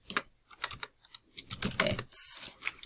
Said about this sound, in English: Pause when you've finished typing those in.